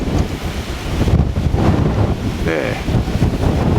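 Strong wind roars across the microphone at a model airplane flying field, a continuous loud buffeting rumble, with a person speaking briefly partway through.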